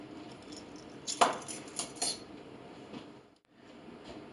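Vanilla being stirred into batter in a mixing bowl for pie filling bars, with a few close clinks of utensil against bowl and soft scraping under a quiet kitchen background.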